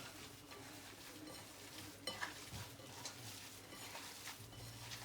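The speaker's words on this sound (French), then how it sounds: "Alors maintenant, il faut bien mélanger tout ça." Food being stirred and mixed in a dish after salt and a few turns of ground pepper, a steady quiet scraping with a couple of louder clinks near the middle, no talking.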